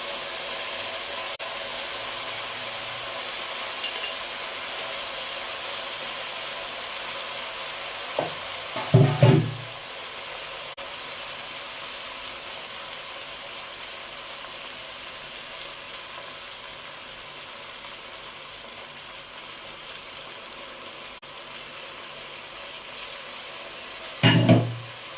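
Lentils for koshari stirred and sautéed in oil with a pinch of salt give a steady, soft frying hiss throughout, with a few louder scraping stir strokes near the middle and at the end.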